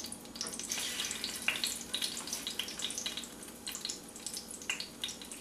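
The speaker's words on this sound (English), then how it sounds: "Now, it's only going to take a few minutes to cook these because shrimp cook really fast" Shrimp frying in hot oil, a soft continuous crackle and sizzle with scattered small pops, faint and close, no talking.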